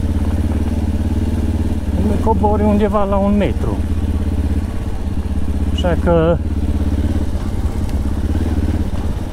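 A motorcycle rides a rough, rocky mountain road in the Apuseni Mountains, its engine giving a steady, close drone throughout while someone talks over it.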